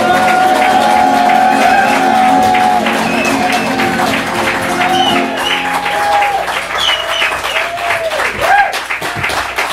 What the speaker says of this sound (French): On applaudit le fantastique poète qui est M.